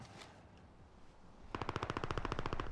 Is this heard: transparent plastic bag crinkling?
no